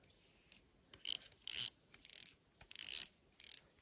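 Carp fishing reel drag loosened at a wild pond, giving quiet ratcheting clicks and short bursts of rasping clicks in an irregular rhythm, close by with no talk.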